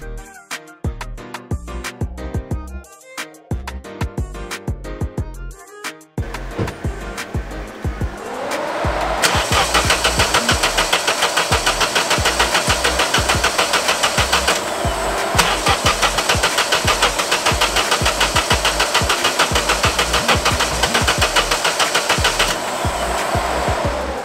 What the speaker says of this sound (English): let's get into trying to start the car up